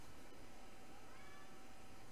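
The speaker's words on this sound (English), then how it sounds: "my cat was sitting behind me, meowing and looking at me." A pet cat meows faintly in a room, sounding soft and distant beneath a steady wash of broadband background noise, with no voices.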